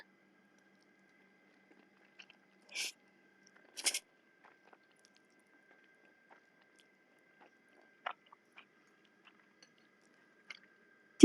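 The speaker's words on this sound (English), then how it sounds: "Do you guys even hear the chewing?" Someone chewing food while eating at a desk, with a few short, close, crisp mouth sounds scattered over near-silence.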